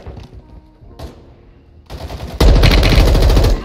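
An M4 rifle with no silencer or muzzle attachment fires in Warzone 2: a few scattered shots at first, then a loud, dense automatic burst that lasts to the end.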